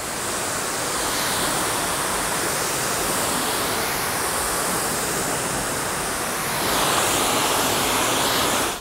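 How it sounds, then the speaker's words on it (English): A steady, loud rush of water sprays over a vehicle being rinsed after a hand wash, continuous and close, swelling slightly louder near the end. "after you wash the entire body, you can now rinse the vehicle"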